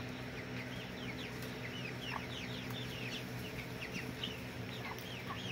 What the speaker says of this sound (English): Over there, you can see my Rhode Island Red hens.